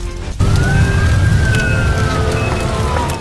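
An ambulance siren wails at the scene of an Ahmedabad plane crash, a steady rising and falling tone sustained throughout over a loud low rumble of background noise.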